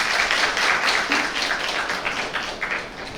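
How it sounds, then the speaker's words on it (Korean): After a science lecture on cars, a hall audience gives a big round of applause, thick, even clapping sustained close and loud throughout with no talk over it. "여러분 다시 한번 큰 박수 부탁드립니다."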